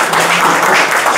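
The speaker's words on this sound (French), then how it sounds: "Victor, que je vous demande d'applaudir avant toute chose" A short burst of audience applause at a French gathering, with dense, loud clapping close by and no speech heard over it.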